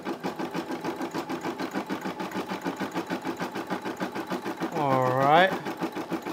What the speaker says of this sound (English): looks like it's stitching a little outline for us here, little design, little pattern